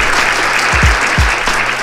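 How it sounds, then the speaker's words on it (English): Loud, dense clapping from an audience at a panel discussion, sustained throughout with a few low thumps underneath. "Please give a round of applause to our great"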